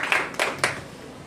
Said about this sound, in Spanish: La recibimos con un fuerte aplauso a la doctora Fariñas.